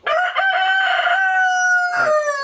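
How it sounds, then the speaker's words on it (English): A single loud, close rooster crow rings out on a farm with young goats, one drawn-out call with a brief trailing note. "Cock-a-doodle-doo!"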